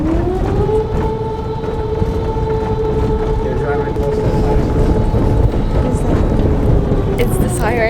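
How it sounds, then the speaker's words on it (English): An air raid siren in Ukraine wails as a long, sustained steady tone, loud and droning over wind noise outdoors. "we were warned that we would hear air raid sirens"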